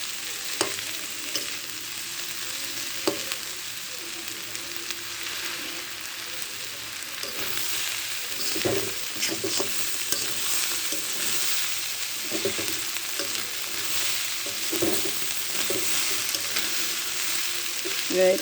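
Fish roe and bitter gourd fry in oil in a pan while being stirred. A steady, close sizzle runs throughout, broken by repeated scraping stirring strokes.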